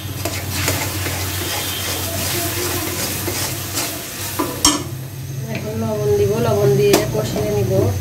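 Spice paste of ground ginger, cumin, turmeric, chili and coriander sizzling and being stirred in a hot pan, steady frying hiss with scraping strokes; a voice talks over it in the latter part.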